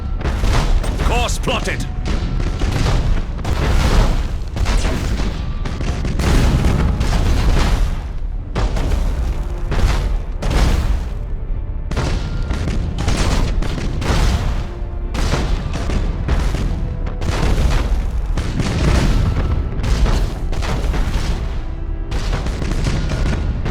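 Starship weapons fire and explosions in Battlefleet Gothic: Armada: dense, loud booms and blasts pounding almost continuously, with a voice speaking briefly over the barrage.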